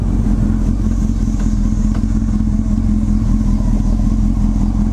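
Motorcycle running on Superlite -1/+1 sprocket gearing, pulling away from a red light in a steady, loud, close-up engine drone, with wind buffeting and faint clatter throughout.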